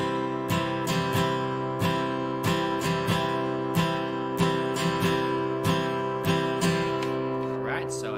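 Acoustic guitar strumming a three-beat pattern during a lesson, sustained ringing chords with evenly spaced sharp strokes grouped in threes, close and clear, no talking.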